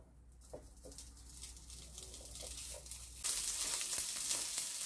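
Chorizo frying in a pan over medium heat in its own fat, no added oil, with a soft, steady sizzle that swells louder and brighter partway through.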